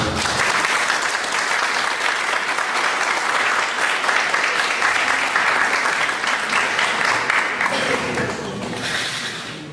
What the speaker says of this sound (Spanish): para quien pido recibir con un fuerte aplauso